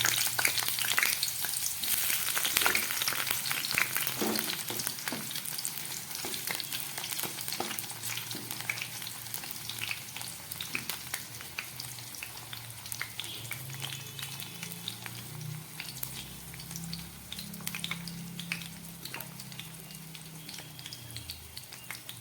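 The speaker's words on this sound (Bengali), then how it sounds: "এই পনির ভাজা তেলের মধ্যে আমি কয়েক পিস পটল ভেজে নেব।" Pieces of pointed gourd crackle and sizzle as they fry in oil left from frying paneer, with occasional light scraping from stirring; the frying fades a little and softens toward the end.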